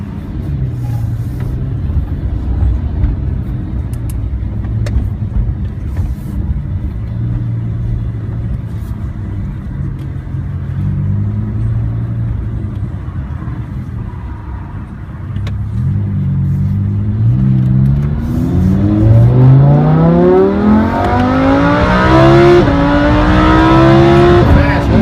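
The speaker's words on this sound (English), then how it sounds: "take it out for a short test drive to see how fast it can accelerate" Lamborghini Huracán LP610-4 accelerating hard on a test drive: steady interior engine rumble that swells into a loud rising roar with climbing pitch through the gears, with some talk underneath.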